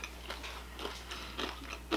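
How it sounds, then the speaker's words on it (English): A few quiet crunchy bites of shrimp and chewing sounds, spaced irregularly over a couple of seconds, close up with no talking. "That is nice and crunchy"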